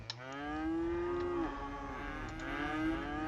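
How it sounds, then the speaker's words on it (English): Cows on a farm in the city-building game Cities: Skylines, giving a long, clear moo followed by another drawn-out bellow, moderately loud over a faint ambient background, no voices. "There's some more cows."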